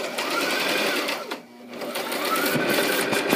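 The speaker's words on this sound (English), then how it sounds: "very carefully lower your needle and carefully begin stitching all the way around the circle" A sewing machine stitching around a fabric circle for a pillow, a steady close whir that dips briefly in the middle before running on, heard alone.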